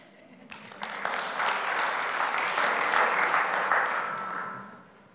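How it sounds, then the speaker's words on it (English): A crowd bursts into applause, building quickly to a dense, steady clatter of clapping before tapering off after a few seconds. "Big applause to this final panel of today."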